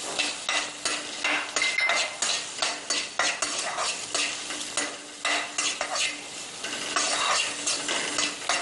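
Sliced onion sautés in a pan, a steady sizzle of frying running throughout while a spoon scrapes and stirs in frequent quick strokes, close and fairly loud, with no talking.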